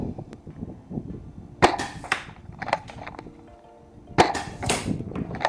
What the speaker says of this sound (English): I'm going to take a few pot shots and we're going to see if we get anywhere near the target